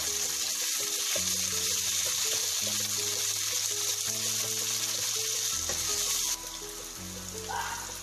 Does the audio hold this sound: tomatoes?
yes